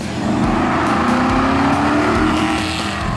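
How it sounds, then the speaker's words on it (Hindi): An Aston Martin Vantage V8 drives with a steady, loud engine drone and road roar throughout, the pitch rising slightly as it pulls along, close and continuous with no talking. "So driving the Aston Martin Vantage"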